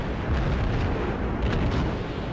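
In World of Warships, a torpedo strikes a ship and sets off a dense, rumbling explosion, a loud sustained roar with a couple of heavier bursts rolling through it.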